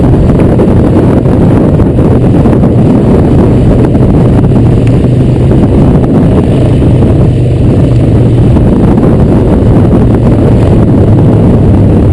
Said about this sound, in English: Windy right through here.